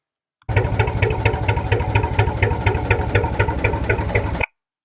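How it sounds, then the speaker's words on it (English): A classic Lister JS3 stationary engine on a Lancaster Canal boat runs alone, a steady rapid mechanical chugging with an even pulsing beat, close and loud, starting and cutting off abruptly. "drool over the sound of a classic engine."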